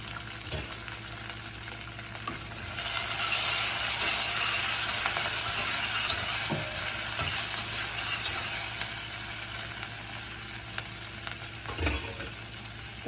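Egg curry masala with sesame powder fries in a pan, a steady close sizzle that swells and settles over several seconds, broken by a few sharp clicks of a spoon or spatula against the pan.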